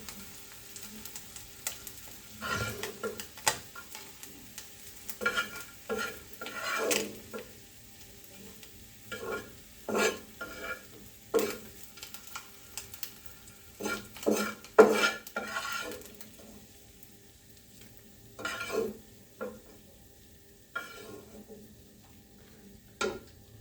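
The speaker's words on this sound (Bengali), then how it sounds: "পুঁটি মাছগুলো মুচমুচে করে ভাজা হয়ে গেছে" Puti fish crisp-frying in a pan, with irregular spatula scrapes and clatters over a low, steady sizzle, close and moderately loud, no voices.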